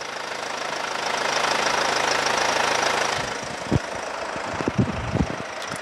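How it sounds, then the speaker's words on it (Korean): A Mercedes-Benz CLS 250d 4MATIC diesel engine runs with the hood open, a steady, gravelly clatter and hum, followed by a few sharp knocks and bumps near the end. "바로 엔진 소리 한번 들려드릴게요"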